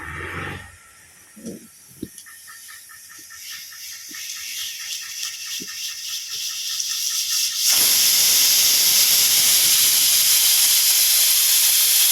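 A pressure cooker cooking beef bones hisses with rising steam, building steadily until it breaks into a loud, continuous whistling blast.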